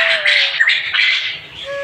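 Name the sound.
quail squawking on a farm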